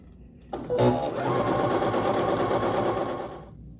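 A sewing machine stitches quarter-inch seams on half square triangle quilt pieces, starting with a clunk and then running as a steady, close mechanical whir for about three seconds before stopping.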